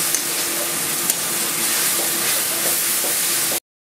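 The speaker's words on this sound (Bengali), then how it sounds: "রসুন বাটাটা পেঁয়াজের মতোই লাল করে একটু ভেজে নেব।" Garlic paste frying in a pan, a steady close hiss of sizzling oil that continues without a break and stops abruptly at the end.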